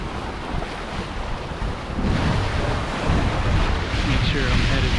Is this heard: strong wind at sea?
yes